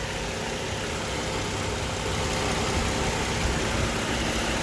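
A 2017 Kia All New K7 3.3 Noblesse Special engine runs steadily at idle in a used-car auction lot, a constant broadband hum with no speech or other sounds.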